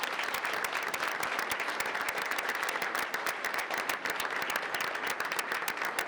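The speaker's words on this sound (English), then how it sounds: "Big round of applause for those guys, please." At a school board meeting, the room gives football players a round of applause: continuous crowd clapping, dense and even, lasting several seconds without speech over it.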